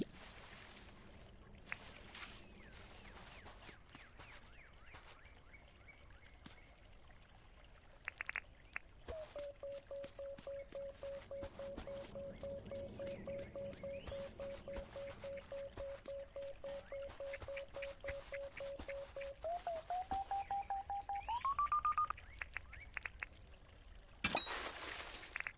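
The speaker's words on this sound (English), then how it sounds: "So I can probably top off my water while we're sitting here." Water container being refilled in the Dinkum video game: a long steady watery fill tone that holds, then rises in pitch as the vessel fills, over light pattering clicks, fairly quiet, with no talking.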